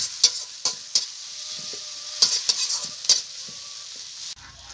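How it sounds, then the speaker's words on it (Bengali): Chopped tomato and spices being sautéed in a pan make a bright, hissing sizzle, with irregular clinks and scrapes of a spoon stirring close by. The sound drops off abruptly near the end, and no one talks. "সবগুলো মশলা আমি একসঙ্গে ভালো করে কষিয়ে নেব।"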